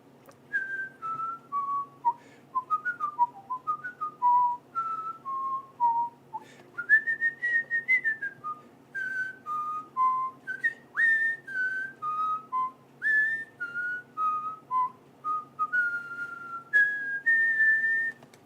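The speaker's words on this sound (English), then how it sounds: "No, I really am good at whistling." A person whistles a melodic tune alone, clear bright notes in a steady phrase-by-phrase rhythm, close and fairly loud.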